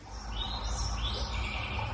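Birds chirp faintly in an outdoor ambience by a distant stream, thin calls drifting over a steady low rumble of wind or water, with no talk.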